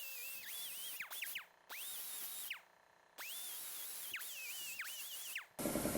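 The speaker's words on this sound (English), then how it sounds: "I'm going to grind it out a little more" An angle grinder works a proud butt weld on a 19-gauge steel Scout 800 fender in repeated passes, its high whine dipping and rising as it bites the metal, with brief pauses between bursts, close and loud.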